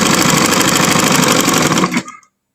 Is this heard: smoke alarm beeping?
no